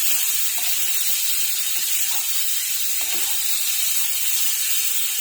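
A spice paste frying in a pan gives a steady, loud, hissing sizzle that runs unbroken and alone, with a few faint clinks underneath.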